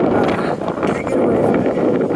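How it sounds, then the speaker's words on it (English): Strong wind on a cold, windy day in the Young and Robie neighbourhood buffets the microphone with a loud, continuous low roar that shifts in gusts throughout. "You can't get away from the wind."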